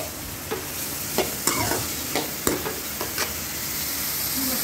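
Vegetables for an aloo, tomato and onion sabzi fry slowly in a pan under a soft steady sizzle, punctuated by several sharp spatula scrapes and stirs.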